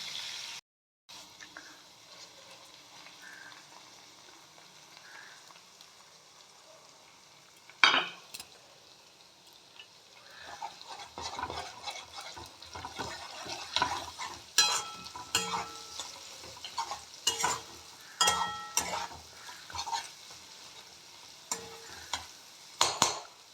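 An egg frying in a pan for mixed rice, stirred with a utensil that scrapes and clinks against the metal over a steady close sizzle. The stirring comes in irregular bursts that grow busier in the second half.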